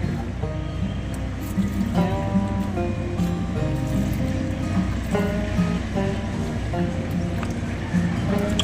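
Calcium-mixed water pours from a bucket onto the soil of a malta lemon tree, a continuous splashing gush heard close up while a person talks over it.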